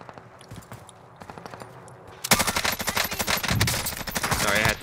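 Bursts of automatic gunfire from a Call of Duty Warzone match, quiet scattered shots at first and then a loud sustained rattle of rapid fire from about halfway through.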